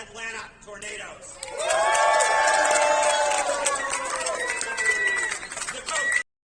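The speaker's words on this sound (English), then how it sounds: "And now a big round of applause for your Atlanta Tornadoes." Arena crowd at a professional squash league match cheering and whooping loudly as the Atlanta Tornadoes team is introduced, a sustained roar of voices with scattered shouts and a brief announcer voice at the start.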